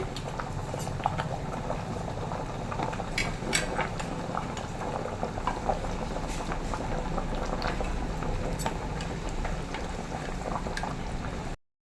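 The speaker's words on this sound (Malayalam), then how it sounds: "ഒരു സൈഡ് നല്ലപോലെ തിളച്ച് റെഡി ആയിട്ടുണ്ട് നമുക്കൊന്ന് തിരിച്ചിടാവേ" Fish head curry gravy simmers in a pan on low flame, a continuous close bubbling boil with small pops and plops throughout, no talking.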